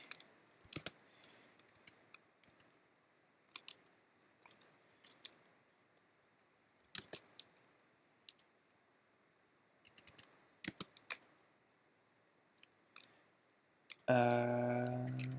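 Scattered keyboard clicks as a new listing post is typed, short bursts and single taps with pauses between, quiet and close, ending in a louder burst of noise.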